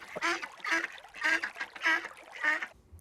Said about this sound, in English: once I heard this duck laughing at me